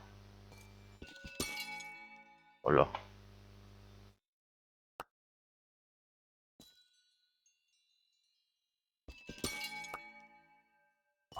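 Crystals in a geode clinking in a video game, bright glassy chimes and shattering tinkles in a few bursts separated by near silence, with a brief spoken greeting.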